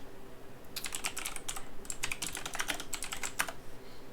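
Rapid bursts of typing on a computer keyboard, close and distinct, with short pauses between runs of keystrokes and no talking.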